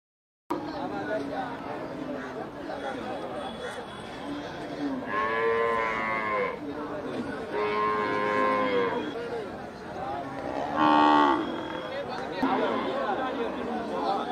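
Bullock cart cattle low repeatedly at a busy market, several long, deep moos rising over a constant babble of nearby chatter and voices.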